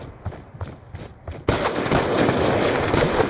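Rapid automatic gunfire shooting through a wall during a Call of Duty Black Ops 2 match: a few scattered shots, then a sustained dense burst of fire, loud and with no speech.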